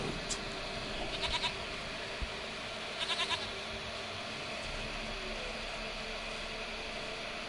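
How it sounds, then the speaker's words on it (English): A goat in The Witcher 3 gives two brief bleats over a steady hiss of game ambience. The cries are fairly faint and come about two seconds apart. "Goat of mine, dearest, sweetest goat."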